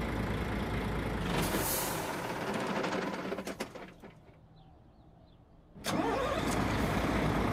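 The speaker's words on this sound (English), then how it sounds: "I like the starter sound." A heavy truck engine cranks with a rough starter grind, then pauses into quieter hiss before the engine roars loudly again.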